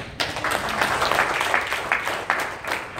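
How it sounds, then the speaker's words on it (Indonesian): A crowd claps steadily for a few seconds, moderately loud and close, the applause sustained without pause. "Kalau Bapak Ibu tepuk tangan seperti ini,"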